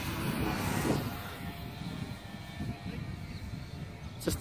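An RC P-51 Mustang model plane flying in a crosswind, its engine a steady distant drone with no speech.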